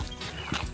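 An untamed horse at an Ooty farmstay gives a brief, close whinny over quick clip-clopping hooves, all within under a second.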